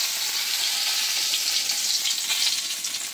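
Washed dried red chillies and bay leaves fry in hot oil, giving a dense, steady, close crackling sizzle throughout.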